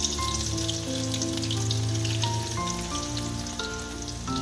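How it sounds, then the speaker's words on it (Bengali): Crushed garlic hits hot oil with a steady, even sizzle and crackle, heard moderately close under soft background music. "এবারে এই তেলের মধ্যে আমি যে রসুনগুলো থেতো করে রেখেছি সেই রসুনটা দিয়ে দিলাম"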